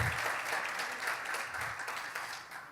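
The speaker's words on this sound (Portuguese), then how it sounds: "Aplauda o nome dele." A church congregation applauding, a steady wash of clapping from many hands heard at moderate distance, continuous throughout without voices.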